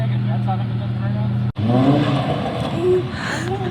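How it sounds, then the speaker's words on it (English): An Infiniti G35 on cheap coilovers attempts a burnout: a steady close engine drone, a brief dropout, then loud rising revs with wavering pitch, while people talk and exclaim over it. "just start a burnout and I can't do it"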